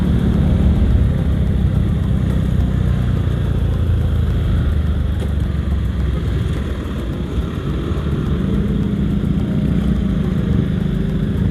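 A manual-clutch motorcycle riding along the Pantura coastal road between Kudus and Demak, its engine a steady low rumble with wind noise, continuous and fairly loud with no talking.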